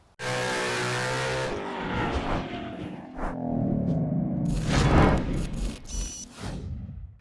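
A 2005-2009 Ford Mustang S197 works through a slalom, its engine rumbling and revving between close tire squeals, loud and near with short accelerating bursts.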